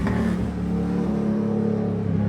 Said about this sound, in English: You're gonna have to excuse the loud traffic that comes along.